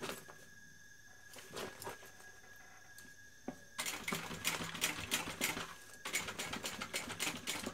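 Sewing machine stitching along a zipper while sewing a BeHip 2.0 bag, a steady mechanical rattle in runs with a short pause, then faster, louder stitching in the latter half, close by with no talk.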